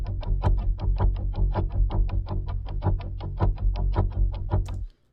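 Slowed-down violin recording played back at reduced speed, its pitch dropped low, with steady repeated bowed strokes in a dense rhythmic pattern, fairly loud and continuous, ending abruptly just before the close.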